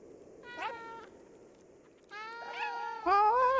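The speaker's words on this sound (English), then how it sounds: "Oh, press circle to meow." Cat meows from the video game Stray, three distinct plaintive calls with falling pitch, the later two louder and longer, clear and close over a soft ambient background.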